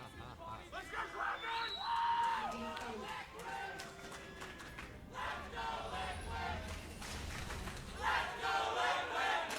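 An esports arena crowd at a 2016 NA LCS Spring League of Legends match cheers for Team Liquid, rising rhythmic chanting and shouting swelling in waves, heard beneath a caster's talk.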